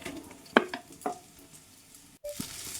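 Chopped tomato goes into a pan of frying spices while pocket paratha filling is cooked, bringing a soft sizzle and a few stirring clacks, moderately close and without talk.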